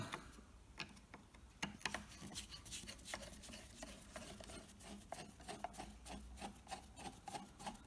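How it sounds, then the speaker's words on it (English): A screwdriver working the screws on the wiring cover of a 230V single-phase to three-phase VFD: faint, close rasping and scraping with rhythmic clicking turns, fairly quiet and steady, no speech. "I've got to get a screwdriver to open this up."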